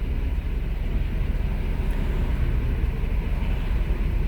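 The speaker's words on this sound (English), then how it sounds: "I do hear the cars running now" Race cars running on the Daytona track during Speedweeks, heard from nearby as a steady, distant low roar of engines without clear individual passes.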